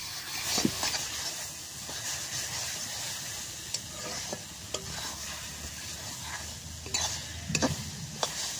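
Raw mango and sugar are stirred again and again in a pan over heat, giving a soft continuous sizzle under repeated scraping strokes and occasional sharper knocks of the utensil against the pan.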